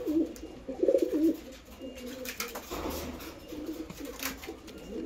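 A Teddy pigeon pair coos in soft, low, repeated bursts close by, the loudest throaty coos in the first seconds and quieter ones trailing on, with faint background noise.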